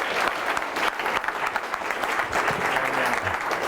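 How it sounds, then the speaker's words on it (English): Audience applause welcoming a speaker onto the stage at a tech talk in Riga, Latvia, a dense, steady burst of clapping from a sizeable crowd that continues throughout. "let's give him a big round of applause and welcome him on stage"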